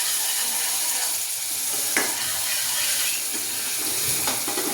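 Garlic and a prepared spice mix being stirred into a hot pan for Gujarati cauliflower sabji, a steady close sizzle with a couple of brief scraping stirs, no talking.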